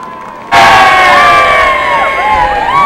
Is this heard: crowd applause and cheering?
yes